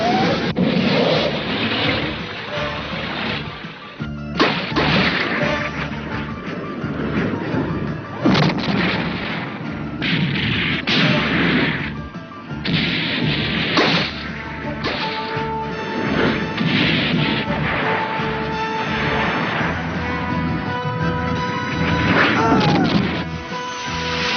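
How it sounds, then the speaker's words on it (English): Anti-aircraft missiles launching and explosions in an animated submarine cartoon, a dense, loud battle mix of whooshes, blasts and crashes layered with dramatic music across the whole stretch. "Prepare to fire anti-aircraft missiles."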